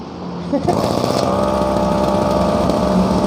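A small two-stroke brush cutter engine runs steadily at high revs, a loud buzzing drone with a sharp onset just after the start and continuing throughout.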